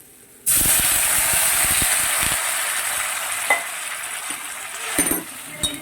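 Hot water poured into prawn masala frying in a pan sets off a sudden loud, steamy hiss that holds steady and slowly eases, with a few utensil clinks near the end.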